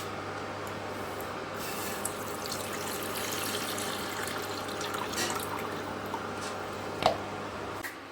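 Tap water runs steadily into a kitchen sink while cabbage is washed by hand, a soft continuous splashing with occasional small drips and one brief clunk near the end, close by, with no voices.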